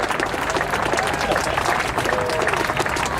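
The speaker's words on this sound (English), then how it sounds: "Big round of applause, ladies and gentlemen, he comes into the lab." Outdoor air show crowd applauding a parachutist as he lands, a broad wash of clapping with a faint voice and a thin tonal whine running underneath, steady and fairly loud throughout.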